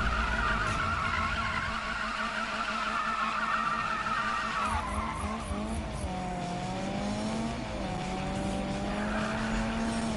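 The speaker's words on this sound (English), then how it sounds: "I just want to do a little drift in this car." A car drifts in the Need for Speed 2015 racing game, tires squealing and skidding over a constant engine roar, with pitch sweeping as the slide continues.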